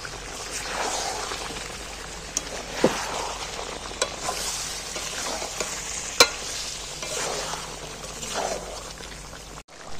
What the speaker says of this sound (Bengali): ফের নাড়াচাড়া করতে করতে কষবো নাড়তে নাড়তে